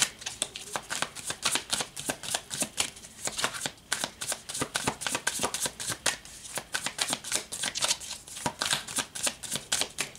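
Tarot cards are shuffled by hand in a rapid series of crisp riffling and slapping bursts, close and fairly quiet, repeating steadily with brief pauses.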